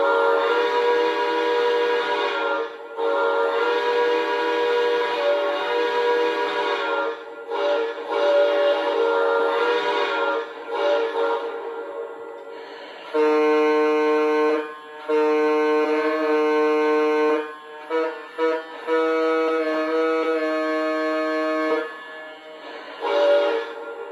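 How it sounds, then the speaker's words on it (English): Lionel Legacy Southern Pacific AC-9 2-8-8-4 cab-forward model locomotive sounding its single steam whistle and single horn, a long series of sustained, loud chime blasts of varying length with short gaps between them. "in this case it's just 1 whistle and the 1 horn"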